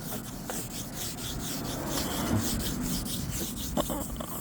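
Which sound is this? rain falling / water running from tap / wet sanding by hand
wet sanding by hand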